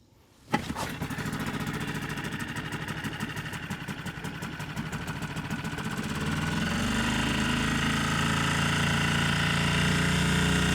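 A Hangkai 6.5 four-stroke outboard engine is pull-started on full throttle with choke and fires almost at once, then runs steadily, its loud rapid putter building into a higher, fuller roar toward the end.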